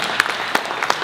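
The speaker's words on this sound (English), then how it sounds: "I want you to give this guy here a big round of applause" Audience at a high school gathering breaks into a brief burst of applause, a dense clapping wash with a few sharp, distinct claps rising above it.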